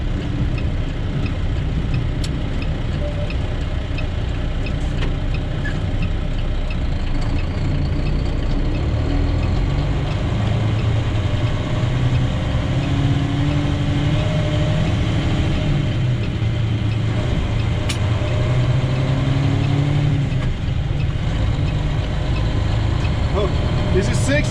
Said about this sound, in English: Rev it up, put her in.